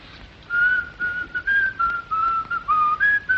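A person whistles a tune, a clear wavering melody of short repeated phrases, close and solo over quiet room tone.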